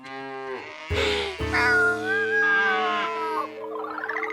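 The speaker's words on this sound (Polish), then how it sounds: "Nadchodziło więcej krów." Cartoon cows in a field give a few long, drawn-out moos that rise and waver, sounding close and fairly loud with no talk over them.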